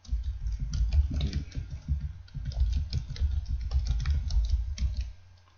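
Keys clatter on a computer keyboard while text is entered in Word, a close, dense run of rapid taps in bursts with brief pauses and a trailing quiet at the end, no speech.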